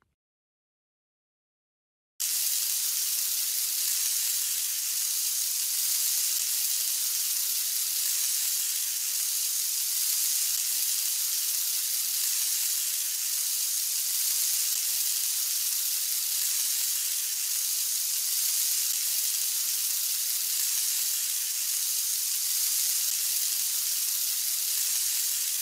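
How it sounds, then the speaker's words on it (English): Butter melting in a hot pan in a Curious George video game, a steady, bright hissing sizzle that starts abruptly after a brief silence and continues evenly and loudly to the end. "We need to melt some butter in the pan so the pancakes won't stick."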